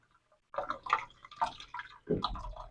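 Water trickles and drips into a fish aquarium in several short bursts, with splashes close by and pauses of quiet between the pours.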